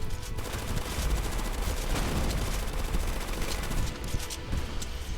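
Rapid bursts of automatic gunfire in the zombie video game Zombie Uprising crackle continuously, dense and rattling, with no talking over them.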